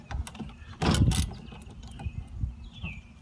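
A number 13 socket wrench works a small, slightly rusted nut on a light bar mount, giving a burst of close ratcheting and metal clicks followed by a few softer scattered clicks.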